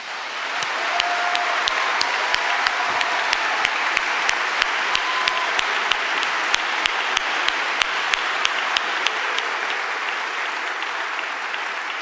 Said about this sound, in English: Please, everyone, join me in an applause for our amazing graduates.